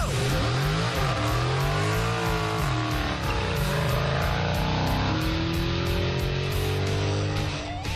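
A Top Gear USA car launches off the line and accelerates hard down a track, its engine note climbing loudly and steadily through the gears for several seconds, with no voices over it.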